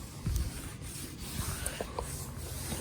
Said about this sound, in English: We're gonna sand this down.